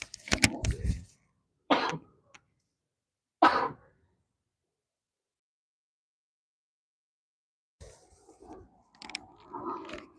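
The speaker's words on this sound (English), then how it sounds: "There goes that sneeze, man. That's what we needed." A single sharp sneeze bursts out among a few short coughs and throat noises, followed by quiet and then some faint shuffling.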